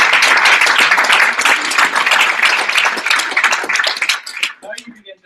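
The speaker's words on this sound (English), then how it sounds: "I think we should give them all a big round of applause for incredible" A loud, close burst of audience clapping at a social entrepreneurship gathering, a thick wash of hands that swells, rolls on for several seconds, then tapers into a few scattered claps.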